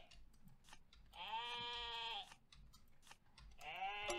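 Two drawn-out bleats from a blue sheep in the video game Terracards sound quietly over faint clicking and typing-like taps.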